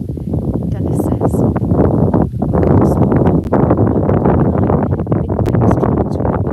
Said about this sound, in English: And it's always windy here on the Broads.